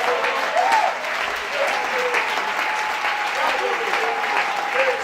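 A church congregation applauds steadily and loudly throughout, dense clapping with a few voices rising over it.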